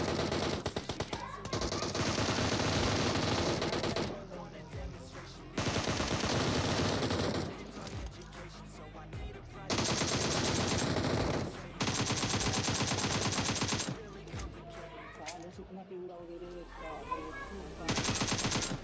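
Rapid automatic gunfire from the mobile battle-royale game PUBG Mobile, loud sustained bursts and rattling volleys separated by short gaps, with a voice talking intermittently underneath.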